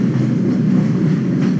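A tram rumbles steadily along its track in the Black Mesa video game, a loud, continuous low rolling drone with no voices.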